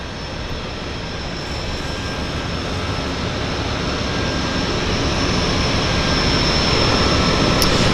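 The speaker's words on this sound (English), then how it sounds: "So we have a Harbour Air caravan taxiing out as our Otter pulls into dock." A Harbour Air Caravan floatplane taxis out at Vancouver's downtown harbour, its steady propeller and engine drone loud and continuous, swelling slightly throughout, with no voices.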